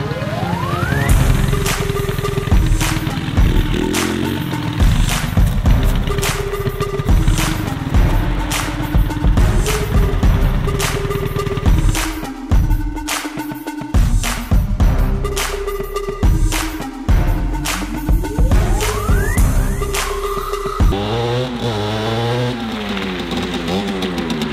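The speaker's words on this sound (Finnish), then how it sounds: "Elikkä tässä meikäläisen moperi, tätä te olette vissiin halunnut nähdä, elikkä Rieju MRT 2019." A 2019 Rieju MRT moped engine runs up close and loud, alternating between idle and sharp repeated revs, with a rising and falling pitch as the throttle opens and closes.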